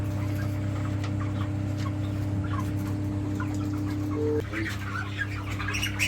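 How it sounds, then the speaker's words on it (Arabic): Chickens on a poultry farm cluck and squawk over a constant low hum of machinery, the birds scattered and fairly close, with a brief clunk partway through and no talking. "ما هو كل الفراخ ما شاء الله فرخة حلوة"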